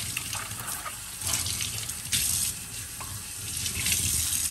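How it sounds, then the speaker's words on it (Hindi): Tap water running into a plastic water bottle as it is rinsed with plain water, a steady splashing gush that swells in bursts as the bottle fills and is swirled, close and loud with no talk. "बॉटल को सादा पानी से अच्छे तरीके से वॉश कर लें।"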